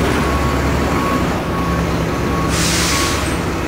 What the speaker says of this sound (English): There's a big garbage truck down below us here, taking the garbage.